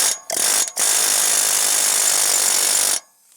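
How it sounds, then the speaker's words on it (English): A chisel hammers against the wheel bearing hub of a 2007 GMC Yukon Denali, working it loose with loud, rapid, rattling impacts: a short burst, a brief pause, then a steady run of about two seconds before it stops. "now going in there with a chisel, a lot of times you'll mess the backing plate up"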